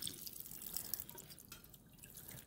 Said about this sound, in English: I always like to rinse off the top and the bottom of the slide